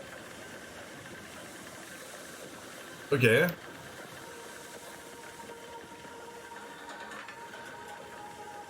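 A low, steady mechanical hum from a spaceship engine room in The Bookwalker game drones throughout, with a brief louder burst partway and a short spoken word.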